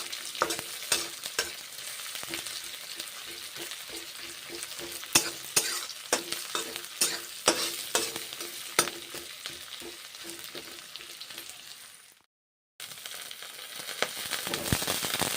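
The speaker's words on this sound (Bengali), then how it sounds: "পাঁচফোড়ন ভেজে নিলাম পেঁয়াজ ভেজে নিচ্ছি" Onions frying with panch phoron in a pan, a lively close sizzle full of crackles and pops, with repeated scraping stirs and a brief silent gap before the frying resumes.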